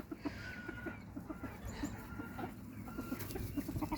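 Self Blue Silkie chickens in a breeding pen cluck and murmur faintly, in scattered short calls over a low, steady background rumble.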